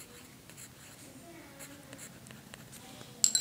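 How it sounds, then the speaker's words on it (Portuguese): A pen writes a name on paper in a small handmade notebook, with faint scratching strokes through a quiet room and a couple of sharper taps at the end. "E daí aqui eu vou escrever o nome."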